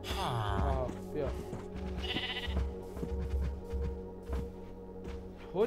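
Sheep bleating in Minecraft on a farm, a couple of bleats near the start with a high call around two seconds, set among footsteps and game sounds while someone talks over it.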